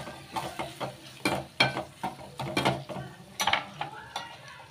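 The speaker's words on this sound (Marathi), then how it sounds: "टमाटे असं छान असं परतून घेऊ" Tomatoes sautéing in a pan for a peas curry: a spoon scrapes and stirs in repeated strokes over a soft sizzle, each stroke a short clatter against the metal, close and fairly quiet with no talk.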